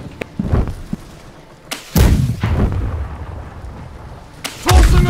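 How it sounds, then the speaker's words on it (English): Explosions and cannon blasts in a pirate-ship battle in the game Blackwake: loud, close booms with heavy low thumps, a big blast near two seconds and another near the end, separated by rumbling decay. "I am throwing a grenade!"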